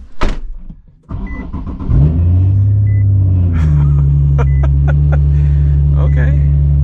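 A Nissan 370Z Nismo heard from inside the cabin, with a door thump and shuffling first, then the engine starting and settling into a steady, loud low drone with faint clicks and beeps over it.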